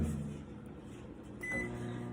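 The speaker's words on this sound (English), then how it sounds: "so into the microwave for 3 minutes." A microwave oven runs steadily with a low hum while cooking eggs and noodles for a ramen meal, with a brief beep-like tone partway through and no talk.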